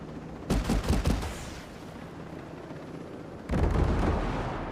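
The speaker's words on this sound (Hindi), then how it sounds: "ये बमबारी हो कहाँ रही है" Heavy bombardment and gunfire from the video game Ghost Recon Breakpoint come as loud rumbling booms with rapid bursts, a quieter lull, then another thunderous barrage.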